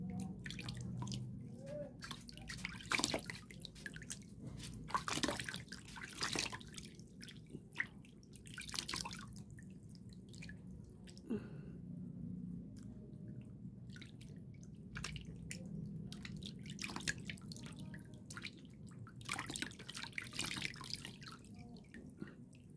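Water dripping and splashing in short irregular bursts while a dried milk and calamansi face mask is rinsed off by hand, close and fairly quiet with no talking.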